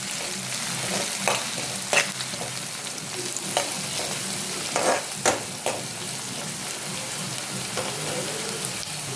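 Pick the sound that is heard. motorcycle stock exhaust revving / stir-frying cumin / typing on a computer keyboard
stir-frying cumin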